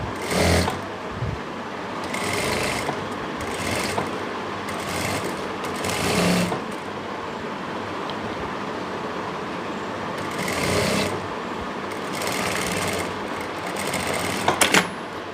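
A sewing machine stitches a pocket lining fabric onto palazzo trousers, running in repeated short bursts of rapid, mid-loud whirring separated by brief pauses, with small clicks near the end.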